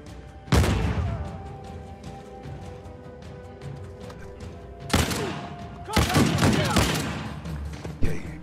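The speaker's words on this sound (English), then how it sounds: "Drop a grenade." A grenade explosion bursts loudly in Uncharted: The Lost Legacy, joined by further booms and crackling gunfire in a chaotic firefight, with several heavy impacts spread across the scene.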